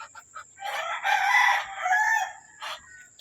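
Close chickens cluck in short bursts and then break into a longer cackling call, fairly loud over a quiet background.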